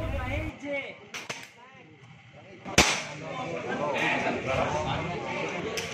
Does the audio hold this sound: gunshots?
yes